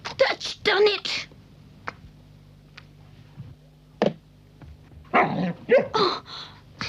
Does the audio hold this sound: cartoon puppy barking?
yes